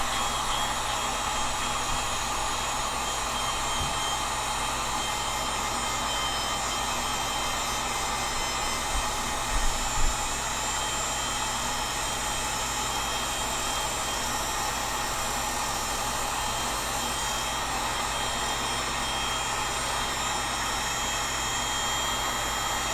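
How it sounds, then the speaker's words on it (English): A heat gun warming the glue on a Tatar bow, giving a loud, steady, close blowing roar that holds unchanged throughout with no speech, apart from a couple of faint clicks near the middle. "So here is our heat gun. We're just going to re-soften the glue"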